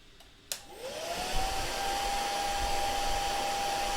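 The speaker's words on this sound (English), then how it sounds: "hairdryer coming on" A hair dryer switches on with a click and whine, then holds a steady, close airflow roar with a constant tone for several seconds, in a humid Brisbane room.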